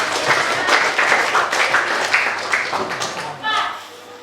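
A classroom group is applauded with scattered, moderately close clapping that stays steady, then fades as voices rise near the end.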